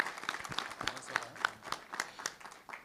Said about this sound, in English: Can we have a big round of applause, please?